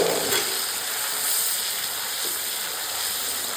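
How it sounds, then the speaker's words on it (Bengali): Green chili and onion paste fries in ghee with a steady, close sizzle and hiss, a bright crackling sheen that holds evenly throughout. "পেঁয়াজ আর লঙ্কা বাটাটা ভাজা ভাজা হয়ে গেছে"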